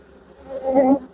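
Honeybees buzzing at an open hive during a colony inspection, a close, steady drone that swells louder toward the end of a short burst, with no talking.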